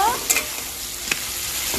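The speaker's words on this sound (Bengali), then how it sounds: "তেলের মধ্যে ভাজবো" Curry fries in hot oil with a steady close sizzle, while a utensil stirs it, giving a few sharp clinks and scrapes against the pan.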